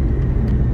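A lifted 1998 Ford F-150 regular cab short bed 4x4 engine, heard during a test drive at a dealer auction, gives a loud, steady, close rumble for under a second.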